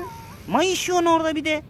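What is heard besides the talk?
cat meowing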